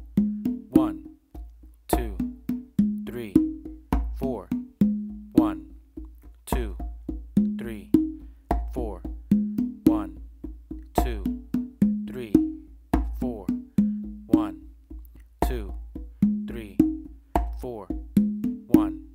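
Modern funk patterns played on three congas: a steady, repeating groove of crisp open tones and sharp slaps at a brisk tempo, loud and close, with no talking.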